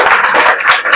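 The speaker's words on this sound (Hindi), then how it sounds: "तो एक बार जोरदार तालियां हो" An audience at a Vestige health product presentation claps in a loud, dense burst of applause, many hands at once, filling the brief moment with no speech over it.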